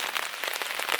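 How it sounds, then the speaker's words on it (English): Rain falling outside at night on a hike along the Superior Hiking Trail, a dense, steady hiss of drops pattering close by for a brief moment, with no voices. "It's just rainy and cold out."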